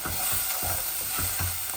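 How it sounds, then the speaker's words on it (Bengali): Onions with turmeric frying in a pan, giving a steady close sizzle broken by regular scraping stirs about every half second. "হলুদ দিলাম যাতে পেঁয়াজগুলো সকাল সকাল ভাজা হয়ে যায়"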